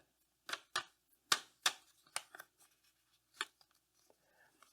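Paper folded by hand into a small homemade envelope for cape primrose seeds, a series of close, crisp creases and rustles in short bursts, quieter toward the end.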